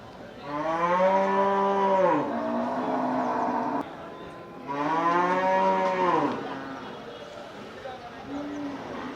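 Cattle at the Melapalayam cattle market moo in two long, loud, close calls with a quieter low moo near the end, while people talk in the background.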